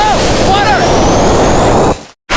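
Water gushes in a loud, steady rush from a newly built well in a small Kenyan village, close and continuous, with excited voices over the start, then cuts off abruptly near the end.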